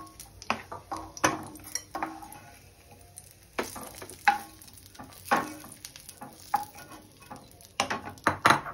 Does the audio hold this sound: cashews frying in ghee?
yes